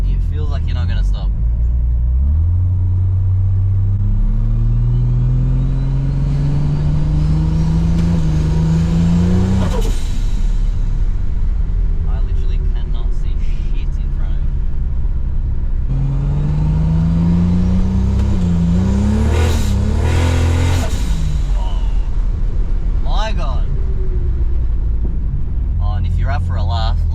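A Holden VL with an RB30 engine on the road, its engine rising and falling in pitch through two long acceleration pulls with gear changes, loud and continuous, while people talk over it.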